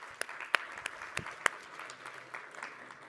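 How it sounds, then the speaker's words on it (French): Conference audience claps in a sparse patter of individual hand claps, a few sharper nearby claps standing out over a faint room background, with no talking. "Je pense qu'on peut vous applaudir."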